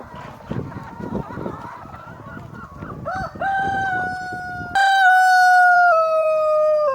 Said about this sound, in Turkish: Buradakiler cins tavuk ve horozlar.